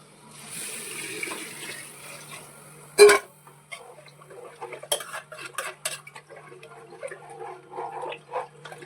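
Water poured into a pot of rice for biryani on a gas stove, with clinks of metal pots and utensils in a home kitchen; no one speaks.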